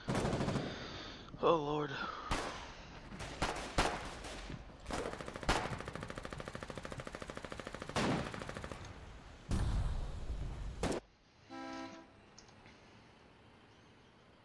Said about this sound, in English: Fire my fucking machine gun right there.